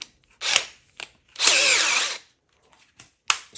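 A drill with a countersink bit chamfers a hole in short bursts: a brief whir, a longer high-pitched spin with cutting chatter, then a quick final burst between quiet pauses.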